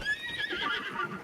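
A horse in Zelda: Breath of the Wild gives a clear, high, wavering whinny, close and moderately loud, over faint background game sound in a snowy area; no one speaks.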